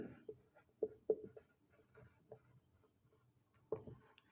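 Someone writes an answer by hand during a Class 12 physics lesson on electric charge, making faint, sparse pen taps and strokes with quiet gaps, with a soft murmur in the background.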